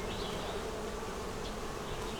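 Honeybees in a double-deep nuc drone in a dense, continuous buzz close by as frames of foundation are handled during a hive inspection, steady and loud with no voices.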